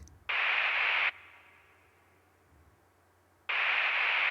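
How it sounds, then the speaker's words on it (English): Resonant filtered white noise from a Schranz techno track, pushed high into the filter peak, comes as two loud, hissing bursts of about a second each, separated by a quieter fading tail. "it's got very resonant white noise style with the filter really pushed up"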